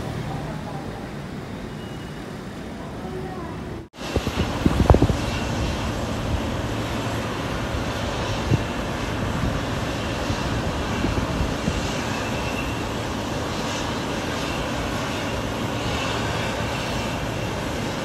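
Philippine Airlines airliner being pushed back by a tug at an airport, a steady broad engine and machinery roar that holds for the whole stretch after a brief cut, with a few knocks and faint voices.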